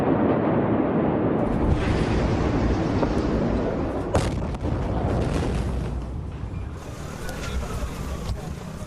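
A massive ammonium nitrate explosion at the Beirut port, following a fire there, sounds as a loud, continuous, deep roaring rumble with a sharp crack near the middle and a long rolling tail.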